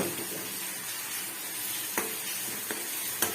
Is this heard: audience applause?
no